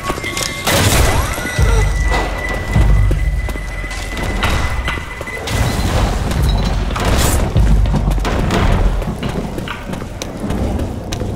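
An explosive is thrown and detonates in the video game Left 4 Dead 2, giving loud, close booms and crashing thuds amid a chaotic, noisy battle that lasts throughout.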